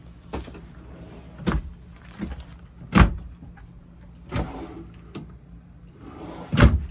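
Deep dresser drawers in a 2018 Keystone Sprinter 3530FWDEN fifth wheel being slid open and shut, a series of about seven sharp thuds and rolling slides spaced a second or so apart, close and alone.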